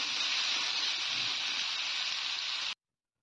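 Chopped vegetables, potato and stalks for a Bengali tengra fish curry, frying in a pan with a steady, continuous loud sizzle that holds evenly and then stops abruptly.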